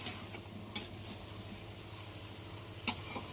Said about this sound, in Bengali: সবজিটাকে খুব ভালো করে কষিয়ে নিতে হবে, এই সময় হাই হিটে রান্না করতে হবে